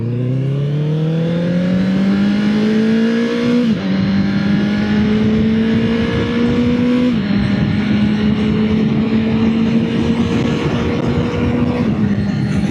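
A motorcycle exhaust drones loudly and steadily while riding into a headwind, the engine pitch climbing through several gear shifts, with heavy wind roar close at the helmet.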